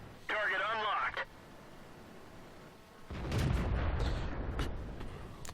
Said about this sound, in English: Okay, so now we know that that was an artillery shot.